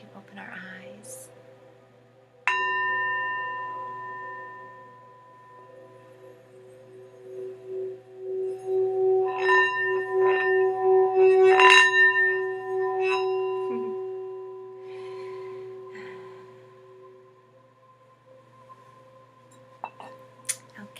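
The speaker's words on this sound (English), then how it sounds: "And I'll ring my bell now as we prepare to open our eyes." A hand bell rung to close a meditation, a clear strike that rings out and decays slowly, followed by several more overlapping strikes building in loudness before fading, with soft speech nearby at times.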